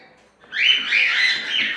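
Pair of cockatiels, a grey yellow-faced female and a lutino male, giving loud, continuous screeching calls close by, rising after a brief quiet start and holding steady to the end.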